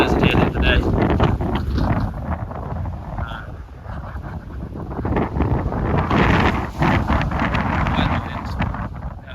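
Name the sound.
strong gusty wind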